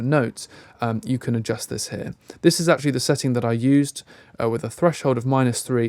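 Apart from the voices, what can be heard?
No everyday noise stands out behind the speech.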